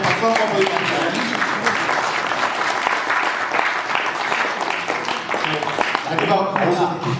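An audience applauds at a book launch in Korea, steady dense clapping filling the room for the whole stretch, with a voice speaking over it.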